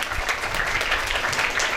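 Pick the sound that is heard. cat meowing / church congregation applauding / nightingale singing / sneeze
church congregation applauding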